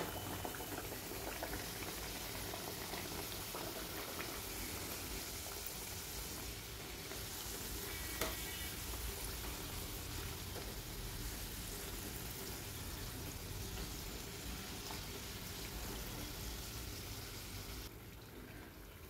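Shegaon kachoris deep-fry in very hot oil, a soft, even bubbling hiss that runs on steadily and faintly without interruption or talk.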